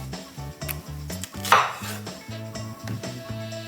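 A knife cuts a large onion into quarters on a board, with a few sharp chopping strikes, one especially loud, over steady background music.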